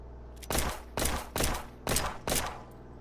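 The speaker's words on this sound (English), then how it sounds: "He's still shooting at us. See if we can't creep up on him. We are under heavy fire." Gunfire in the police video game Flashing Lights comes as five evenly spaced loud shots about half a second apart, each a sharp burst over a low background rumble.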